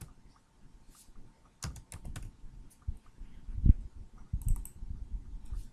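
Computer keyboard being typed on in short, quiet clusters of close key clicks that build from sparse taps into a denser run of keystrokes, with no talking.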